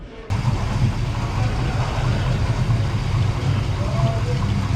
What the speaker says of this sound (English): That's the exhaust feeding out through the Outdrive.